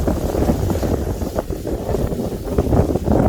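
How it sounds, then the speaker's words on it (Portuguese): Strong wind roars across a mountain-top reservoir in Brazil, buffeting the microphone with a loud, continuous rumble that rises and falls in gusts. No other sound stands out. "Vento muito forte."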